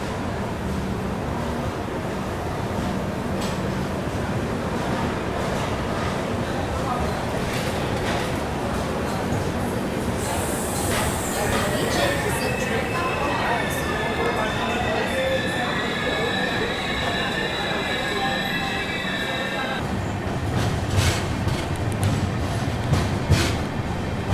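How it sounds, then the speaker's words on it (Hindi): The 12622 Tamil Nadu Express from New Delhi to Chennai runs on after leaving Balharshah station, a loud continuous rumble and rattle of wheels and carriages, with a sustained metallic squeal rising over the din through the middle stretch. "चले दोस्तों, निकल गई अपनी ट्रेन बल्हारशाह से।"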